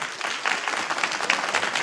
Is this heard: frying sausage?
no